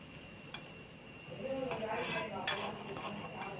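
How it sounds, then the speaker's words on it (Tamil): A spoon stirs brinjal gravy in a metal cooking pan, giving soft scraping and light clinks against the pan over a low kitchen background hum. "நல்லா கிளறி கொடுக்கணும்."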